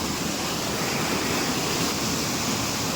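Rushing stream pouring close by near a waterfall in a cashew forest, a loud, steady broadband roar of churning water with no break and no voices.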